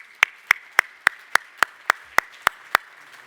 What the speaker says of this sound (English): So give yourselves an applause, guys.